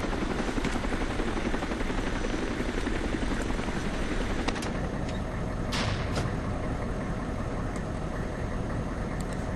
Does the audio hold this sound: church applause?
no